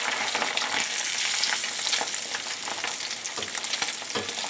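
Branzino fillets sear in a very hot cast iron skillet with a loud, steady sizzle and crackle that fills the whole stretch, with brief spattering pops and no talking.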